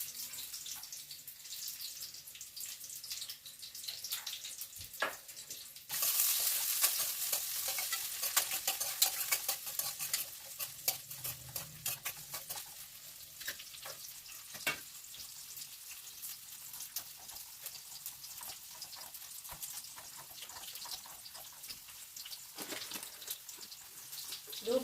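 Spinach leaves fry and are stirred in a pan: a quiet start, then a loud sizzle bursts in around the middle, with repeated scraping stirs and clinks continuing as the frying settles down.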